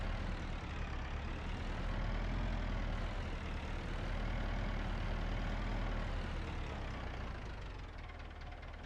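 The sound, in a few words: tractor engine running in video game Farming Simulator 25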